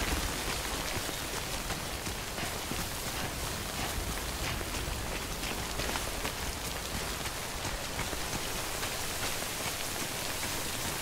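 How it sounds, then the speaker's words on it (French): Rain falls steadily in the video game Death Stranding, a dense, even hiss of drops that stays constant from start to finish with no voices or other sounds. "attendre que la pluie s'arrête là-bas"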